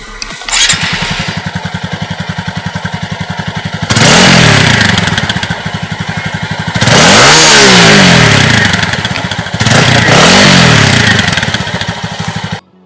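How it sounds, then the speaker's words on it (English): A TVS Apache RTR 200 4V naked street motorcycle with a double-barrel exhaust, loud and close, idling with a steady rapid throb, then revved hard three times in rising and falling surges before settling back to idle. "The exhaust note is tuned to make it sound more emphatic, and I can guarantee you it sounds good."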